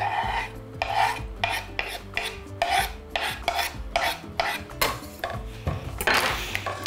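Chopped zucchini fried in vegetable oil in a pan while a utensil repeatedly scrapes and stirs it, giving rhythmic metallic rasps about every half second over a low sizzle, close and clear without talk.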